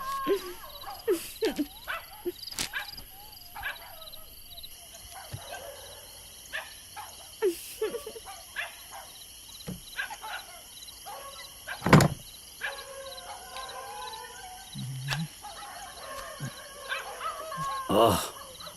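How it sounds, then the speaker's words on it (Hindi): Dogs barking at night, several sharp barks scattered through the clip at varying distances over a dim nighttime background, with occasional louder, closer yelps. "ये कुत्ते क्यों इतना भौंक रहे हैं?"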